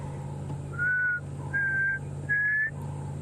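A person whistles an imitation of a black cuckoo's call on a safari sunrise drive: three clear, steady, slightly rising notes about half a second each, close and loud over a low engine hum.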